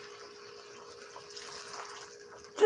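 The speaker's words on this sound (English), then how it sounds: "Throw in some more of this water" Water pours into a pan of shrimp scampi sauce with a steady, moderate running splash, followed by a brief louder clunk at the end.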